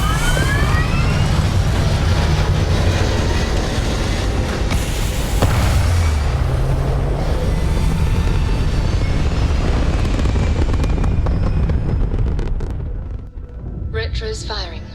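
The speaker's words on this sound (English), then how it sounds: "All thrusters firing." Spaceship thrusters in the Starfield video game fire at takeoff as a loud, continuous roaring rumble that holds for a long stretch and then fades, with a voice speaking over it.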